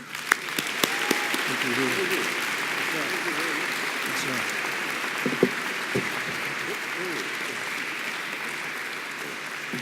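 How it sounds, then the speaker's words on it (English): Steady applause from an audience at a space conference's governors' dinner and gala, sustained and moderately loud throughout, with a brief spoken thanks partway through. "please welcome him with your applause"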